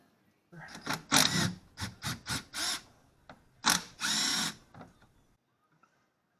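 Power tool spinning out 10 mm bolts on a GM 3.4 engine in a 2003 Pontiac Montana, heard as a close series of short whirring bursts followed by a longer run, then silence.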